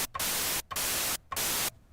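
A synthesizer plays bursts of white noise, a loud, even broadband hiss. Three long bursts are separated by short gaps, and a faint tone blips at each onset.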